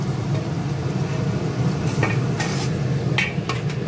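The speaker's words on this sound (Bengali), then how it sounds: "আবার ভাজি।" Fish fry and egg-battered kabiraji frying in hot oil, a steady sizzling hiss broken by a few short metallic scrapes of a spatula, close with no talking.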